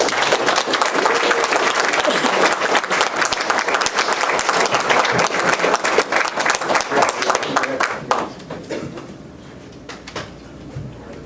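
A crowd at a school district board meeting applauds to welcome a new maintenance director, with dense sustained clapping for about eight seconds that then thins out and fades to quiet.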